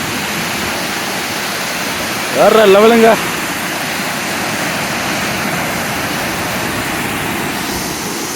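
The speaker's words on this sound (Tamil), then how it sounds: "அந்த தண்ணி சவுண்ட் அப்படியே சும்மா பிச்சு உதருதுங்க" Steady broadband rush of the Hogenakkal waterfall fills the whole clip, loud and close, with a man's brief excited exclamation cutting in partway through.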